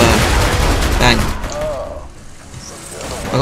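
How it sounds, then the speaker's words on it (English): An explosion in the video game Borderlands 2 lands amid gunfire: a loud burst of booms and shots that fades into rumbling, with a player talking over the game. "that's an explosion"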